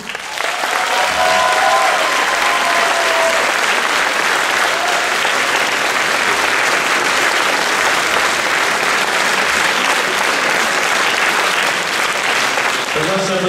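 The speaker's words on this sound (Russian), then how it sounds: "Пожалуйста, аплодисменты." A jazz concert crowd in Kherson applauds, loud continuous clapping that stays dense and steady for the whole stretch, with faint voices mixed beneath.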